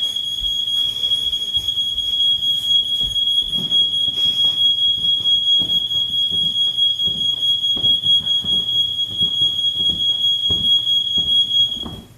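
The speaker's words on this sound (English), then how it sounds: "Oh, there goes the alarm." A smoke alarm shrieks with a loud, steady high-pitched tone that holds for the whole stretch, with soft irregular thumps underneath and no talking.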